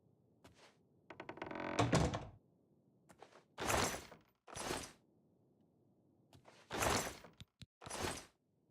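A door opens in Oblivion Remastered, heard as a few separate thunks and creaking scrapes spread across several seconds, fairly loud against a quiet background with no talk.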